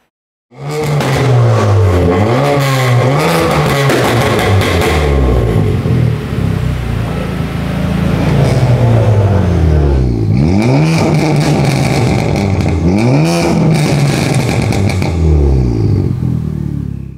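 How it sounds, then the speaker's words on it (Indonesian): A Honda Civic Type R FK8 with a loud, open full exhaust revs hard several times, rising and falling in pitch, close by and continuous with no talking. "sekarang langsung kita ganti full exhaust-nya, nanti kita akan denger bareng-bareng suaranya kayak gimana"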